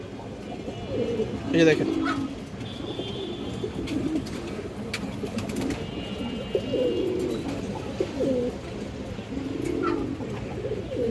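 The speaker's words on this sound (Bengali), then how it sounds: "একজোড়া লাল চুল্লি কবুতর আছে," Pigeons coo throughout, a pair of red high-flyer pigeons with boot beaks among others. The low, rolling coos repeat close by, with occasional chirps, while someone talks over them.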